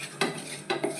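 A spoon scrapes and clinks against a pan while flour is stirred into butter for a white sauce, two or three short metallic strokes close by, with no talk.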